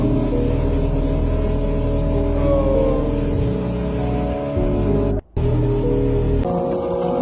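Car engine held at high revs while drifting, a loud sustained roar with rising and falling pitch and a brief cutoff partway through before it resumes.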